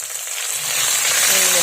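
Chilies hit hot oil with popped mustard seeds, producing a loud, close burst of hissing sizzle that swells and holds for a moment.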